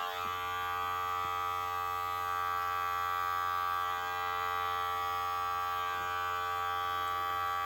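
Electric hair clippers buzz steadily and close by while trimming hair in a basic haircut, a constant humming drone with no breaks.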